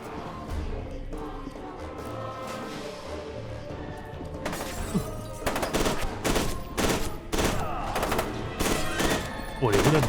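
Automatic gunfire in the first-person shooter game F.E.A.R. 2, quieter at first and then loud, dense bursts of rapid shots from about halfway on, with game ambience underneath.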